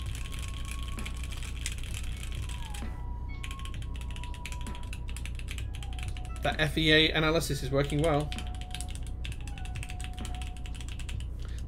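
Keystrokes on an Iron 165 FE mechanical keyboard, built with only paper under the PCB and plate, with a short burst of clacky typing under a voice and steady background hum.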